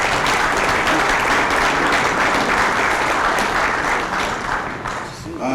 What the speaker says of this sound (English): Let's give a round of applause for the Jostens team.